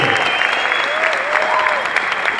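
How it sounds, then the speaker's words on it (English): A crowd at a kids' breaking championship final claps steadily and cheers throughout, with a whistle-like tone gliding above the continuous applause. "Make some noise for all the B-boys and B-girls and dancers of tonight."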